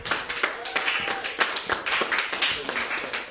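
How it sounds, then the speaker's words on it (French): Audience applause greets a pastor at a church award ceremony, a steady patter of many hands with voices mixed in underneath throughout. "Sous vos applaudissements, nous accueillons le pasteur."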